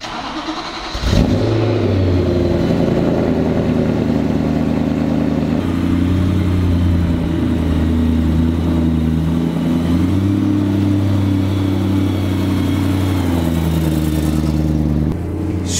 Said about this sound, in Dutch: Super schorre roffen uit de uitlaat